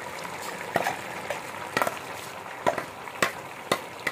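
Ground masala paste sizzles and fries in a pan of boiled suran (elephant foot yam), with a steady crackle broken by several sharp spatters and stirring scrapes.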